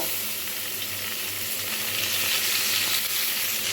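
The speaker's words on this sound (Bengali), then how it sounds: "যখন দেখব তেলটা গরম হয়ে গেছে তখন আমি এক এক করে সব মাছগুলো কড়াইয়ের ভিতরে দিয়ে দেব" Parshe fish sizzle in hot white oil in a wok, a dense, loud, continuous crackling hiss that holds steady throughout with a low hum beneath it.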